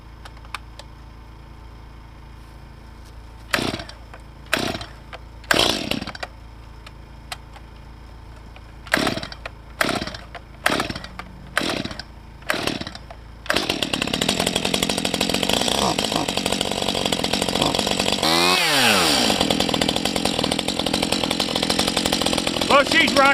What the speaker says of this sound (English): Let's go ahead and get this thing started.